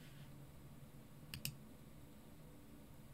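Two quick computer mouse clicks close together, faint and close-up against a quiet background, with no talking.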